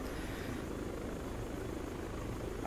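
A helicopter in the ArmA 3 military game drones steadily with a low rotor and engine rumble, moderately loud and continuous, with no voices heard.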